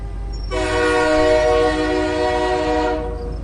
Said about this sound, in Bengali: ট্রেনের হর্নের শব্দে